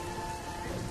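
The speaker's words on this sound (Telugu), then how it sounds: "వర్షం వస్తోంది" Rain pours down during a thunderstorm, a dense, even hiss of drops striking surfaces. The burst is brief and uninterrupted, with no voices.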